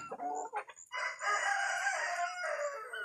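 Hens cluck in short bursts, then a rooster lets out a long, loud crow nearby.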